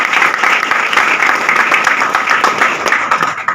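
A seminar audience in Surat breaks into loud, close applause, dense rapid clapping that continues for a few seconds with a faint crowd murmur beneath.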